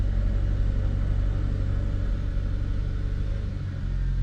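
A 2011 Saab 9-5 turbo engine idles right after a cold start, a steady, loud low rumble that holds evenly throughout with no talking.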